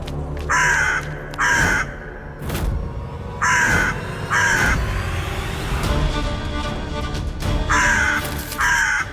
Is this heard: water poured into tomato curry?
no